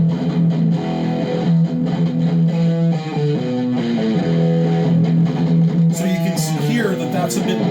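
Distorted electric guitar through an amp, miked with an MD421 slightly off center at the edge of the dust cap, plays sustained chords and riffs loud and close, with a darker, duller tone.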